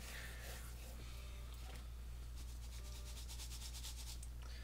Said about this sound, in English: So you're just going to give it a nice rub until it gets all over everything.